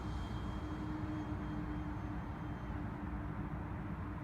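A Horizon Hobby P-51D Blondie 1.2m RC model plane with a 13x6.5 prop flies at night, giving a steady, continuous engine drone with a constant hum that holds level throughout, with no voices.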